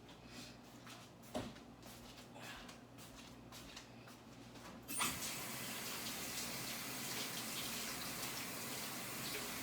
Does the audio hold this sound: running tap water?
yes